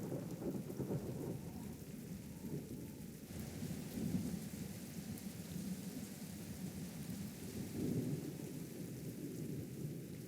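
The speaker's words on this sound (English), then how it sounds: "heavy rain effect is ending" A heavy rain effect in the online game Throne and Liberty plays as a continuous low rumbling downpour with a dense wash of drops and soft thunder-like swells, steady throughout and without voices.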